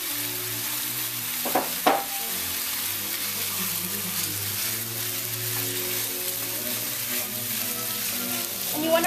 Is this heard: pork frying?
yes